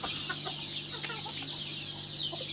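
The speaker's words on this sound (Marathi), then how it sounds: "आपलं हे छोटंसं घरगुती कुक्कुटपालन आहे गावठी कोंबड्यांचं" Free-range village chickens in a small backyard poultry flock in rainy Ratnagiri, Konkan, cluck repeatedly in short scattered calls at close range over a faint steady background hum.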